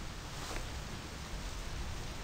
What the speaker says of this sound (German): Oh, es regnet.